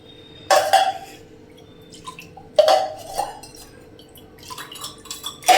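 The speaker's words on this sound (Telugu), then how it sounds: "ఇట్లా వాటర్లో వేసేసుకొని తీసేయడమే." Dishes are dipped into a basin of cleaning water and lifted back out, in three bursts of close splashing, dripping and light clinks of metal and glass against each other, with quieter trickles between.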